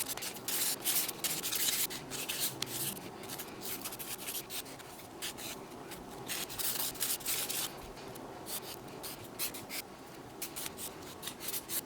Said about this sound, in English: I filed and buffed and took off the dust